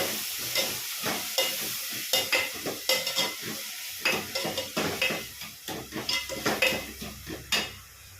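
Tomato masala for an eggplant kara kuzhambu frying in a pan, with a continuous close sizzle under a rapid rhythm of metal spoon scrapes and clinks as it is stirred.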